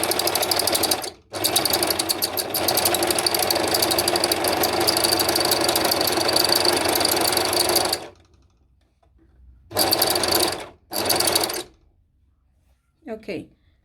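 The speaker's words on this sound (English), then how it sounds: "I'm just going to go ahead and overlock" An overlocker sewing machine runs in a fast, buzzing rattle for several seconds, stops, then gives two short bursts, close and fairly loud.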